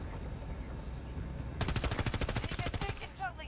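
A helicopter's gun in Battlefield 2042 lets off a quick, evenly spaced burst of rapid shots that lasts over a second, loud and close, after a quieter stretch of background noise.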